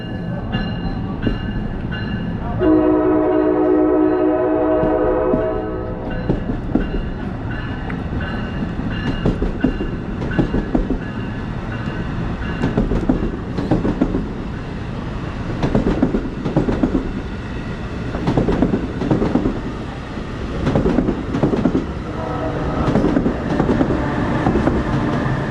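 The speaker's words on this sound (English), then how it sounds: "And there goes the train." A New Jersey Transit North Jersey Coast Line train departs Red Bank station, rolling past steadily, its wheels clacking rhythmically over the rails with metallic squeals and a long tonal hum near the start.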